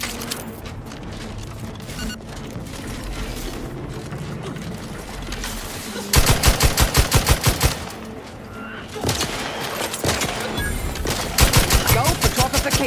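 Rapid automatic gunfire in The Outer Worlds 2, loud sharp bursts of closely spaced shots in two main volleys after a stretch of busier combat noise, with brief voice callouts heard.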